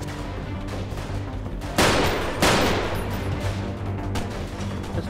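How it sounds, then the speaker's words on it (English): Bursts of rapid gunfire with two loud volleys in the middle, over a constant low rumble of background noise in the video game Freeman: Guerrilla Warfare. "There's gunfire from over there."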